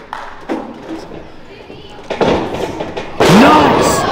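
A wrestler lands a standing moonsault in the ring at a live wrestling show: a heavy thud, then a swelling crowd roar, with a commentator's voice running underneath.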